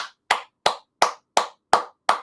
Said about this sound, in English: Let me give myself a hand clap.